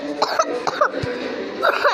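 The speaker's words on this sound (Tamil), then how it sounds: "என்னடா இருமுறன்னு பார்த்தீங்கன்னா சளி பிடிச்சிருச்சு, அதனால தான் இருமுறேன்" A man with a cold coughs several times in quick, harsh bursts, close and loud, over faint game sounds in the background.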